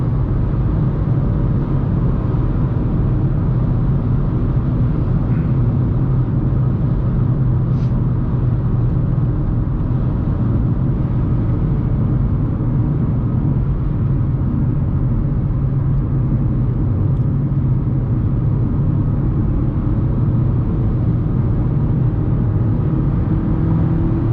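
A Honda Civic G manual cruising on a highway, with a steady, loud low engine and road rumble held constant throughout, no talking.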